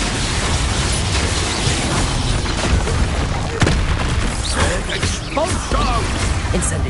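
Expulso spell blasts in the Hogwarts Legacy game, a dense battle with several booming bursts and pops over continuous combat noise and effects, with a voice shouting spell names throughout.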